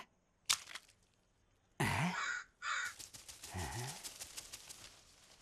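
Several harsh crow caws at close range, separated by quiet gaps, with a few shorter rasping calls toward the end.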